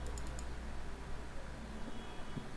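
A computer mouse double-clicks to select a word in Microsoft Word 2007: a quick cluster of light clicks right at the start, followed by soft, steady background noise.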